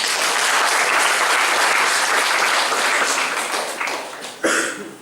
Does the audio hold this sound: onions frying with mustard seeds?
no